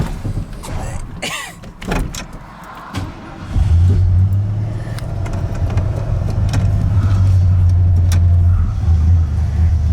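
Junkyard truck with an eBay carburetor: after some clunks and creaks, the engine catches and settles into a loud, close, low idle that wavers unevenly with a slight stumble.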